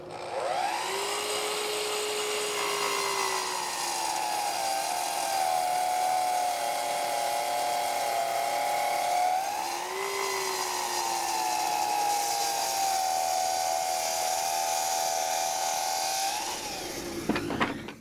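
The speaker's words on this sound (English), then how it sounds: "it's over to the drill press to drill out the leg post" A steady motorized whine holds for most of the stretch, dipping briefly midway, as a drill press bores into a wooden nightstand leg post, then fades out at the end.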